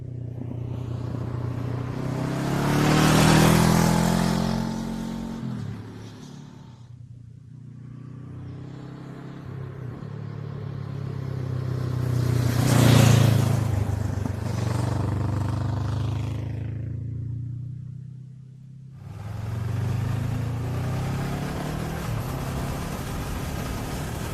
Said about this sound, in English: The exhaust got a lovely little pop on the overrun.